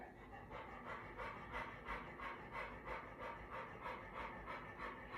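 A dog pants in quick, steady rhythmic breaths, close and clear, repeating evenly throughout.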